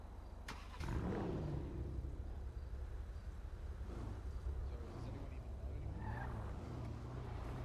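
A car skids and speeds in a video game, a steady engine drone with tire squeal sweeps rising and falling, heard faintly under a voice talking.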